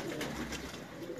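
A pigeon at a Multan loft coos in a soft, low, throaty murmur, close by and steady for a moment with no talk over it.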